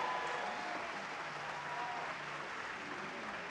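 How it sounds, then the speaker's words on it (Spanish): Audience applause at a symphony orchestra concert marking a university's 114th anniversary, a dense, steady wash of clapping from a large crowd filling the whole stretch without pauses. "así que un aplauso para ustedes."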